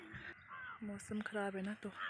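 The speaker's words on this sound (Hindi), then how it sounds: "यहाँ पे बहुत सारे कौवे हैं" Several crows caw in short, harsh bursts nearby in a Himachal setting, mixed in with a person talking close to the microphone.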